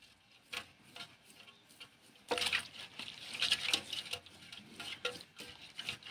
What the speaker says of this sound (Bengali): এই পানিটা ফেলে দিব, ফেলে নতুন পানি নেব।